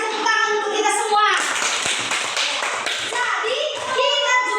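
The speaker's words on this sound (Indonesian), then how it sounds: "Kita kasih tepuk tangan untuk kita semua." Fifth-grade children clapping hands in a coding class, a burst of quick, uneven claps from a group following a teacher's spoken prompt, with voices heard before and after.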